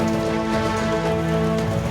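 Steady rain falls in Mandya, an even, continuous wash of patter that stays constant throughout, with a faint underlying hum and no voices.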